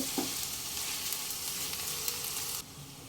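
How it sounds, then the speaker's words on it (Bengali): Chopped onions fry in refined oil for chicken haleem, giving a bright, close, continuous sizzle with stirring scrapes that drops abruptly in loudness near the end. "পেঁয়াজগুলোকে ভাজা ভাজা হতে দেব"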